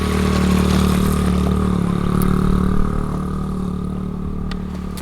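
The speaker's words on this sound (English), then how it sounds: "That is like a little 50 bike" Small 50cc motorbike engine with a dad and child riding it, a steady loud buzzing drone with a faint rattle and a slight rise in pitch partway through, held close throughout.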